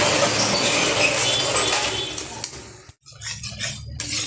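Spiced masala for doi paneer sizzles and is stirred in a pan, a steady hiss of frying with scraping and clinking of the spoon against the pan, close up.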